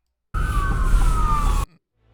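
A police car siren wails loudly and steadily for over a second, with a sliding tone, and then cuts off abruptly into silence.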